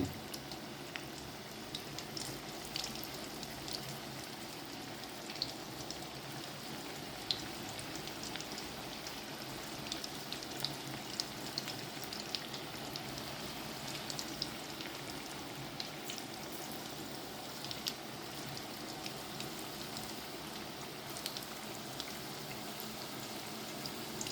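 Cabbage pakoda frying in hot oil, a dense, even crackle like steady rain that runs unbroken and moderately quiet for the whole stretch, with no voices.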